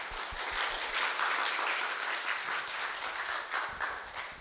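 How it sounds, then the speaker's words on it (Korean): Church congregation giving a warm round of applause to welcome a visiting missionary pastor, steady dense clapping throughout, moderately close with no talk. "목사님 모실 때 우리 큰 박수로 환영했으면 좋겠습니다."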